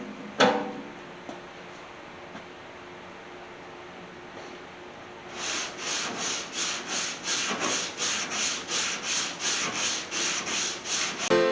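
Hand sanding on the body filler of a 1981 Chevy C10 short-bed squarebody roof: quiet scraping at first, then a steady run of rhythmic back-and-forth rasping strokes, close and fairly loud.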